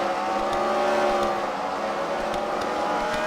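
The checker race car of the Boogity Boogity Racing team runs at the Freedom Factory fight-night race. A steady engine drone holds at a near-constant pitch, with no pauses.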